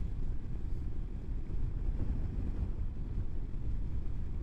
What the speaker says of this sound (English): Really strong wind there.